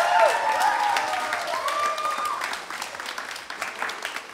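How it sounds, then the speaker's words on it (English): Applause from the audience at the ISA Cultural Night 2020 for the event committee, a steady wash of clapping that fades slightly toward the end, with faint voices and cheers mixed in. "give a huge round of applause to the 2020 committee as well"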